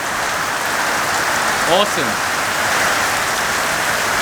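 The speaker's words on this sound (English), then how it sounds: "It's a crap load of rain before we start a drift event" Heavy rain pours down before a drift event, a dense and steady hiss of drops on surfaces. A voice briefly speaks over it partway through.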